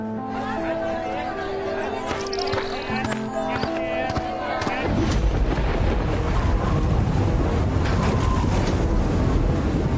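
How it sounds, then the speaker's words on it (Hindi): Storm wind blowing with a rough, broadband roar that swells loudly about halfway through and then rushes on steadily, preceded by a mixed background of tones and layered sound. "लगता है बड़ा तूफान आने वाला है"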